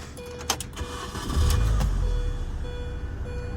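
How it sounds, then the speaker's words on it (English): A 2002 Mini Cooper engine cranks briefly, then catches and settles into a steady low idle, close by, with no talking. "Fire up."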